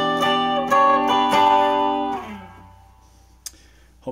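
Strummed chords on a 1966 Epiphone Casino hollow-body electric, a few bright rhythmic strums ringing out and decaying into near silence, with a couple of faint string clicks at the end.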